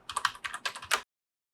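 Quick, crisp keystrokes clatter on a computer keyboard, about ten taps in a rapid burst, then silence.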